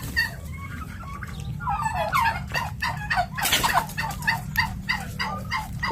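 Turkeys gobble loudly at feeding time alongside chickens and ducks, a rapid burst of rattling gobbles and clucks repeating close by over a low background hum, with no speech.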